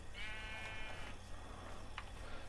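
A sheep in the video game Minecraft bleats once in a long wavering cry near the start, with a brief click later over steady low background hum.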